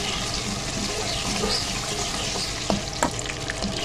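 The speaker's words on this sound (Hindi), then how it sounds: "और अब हम इनको करेंगे फ्राई। ज़्यादा इनको कलर नहीं देंगे, बस थोड़ा सा इसको भूनेंगे" Black pepper and whole spices frying in hot oil in a pan for chicken yakhni pulao, a steady close sizzle throughout with a couple of light utensil knocks near the end and no talking.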